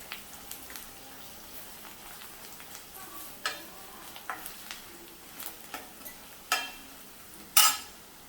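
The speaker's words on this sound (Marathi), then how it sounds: "आता हे मसाले मिक्स करून घ्यायचे आहेत" Red chilli powder, coriander powder, garam masala and turmeric stirred into a sizzling oil tempering for dal palak, with soft scraping strokes and scattered sharp crackles over a low, steady frying hiss.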